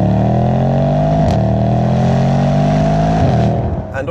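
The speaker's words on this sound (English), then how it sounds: "From the sound you get on startup to, yeah, exhaust note when you're ripping through the revs." A 2018 BMW M5 or Mercedes-AMG E63 S sports saloon revving hard, a loud, close, continuous exhaust drone that rises through the revs, dips briefly at gear changes, then climbs again.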